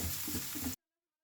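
Powdered spices stirred and sizzling in a hot pan over a low flame, a soft continuous fry with light scraping strokes, close and quiet, cutting off abruptly into silence after under a second.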